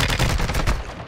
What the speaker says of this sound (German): Von rechts hat er geschossen.